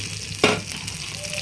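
Butter hits a hot tawa for pav bhaji with a sharp, close hiss, which then settles into a soft steady sizzle.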